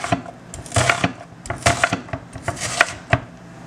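An onion chopped with a knife on a cutting board, heard as a quick run of crisp, close knocks in an uneven rhythm, with no talking.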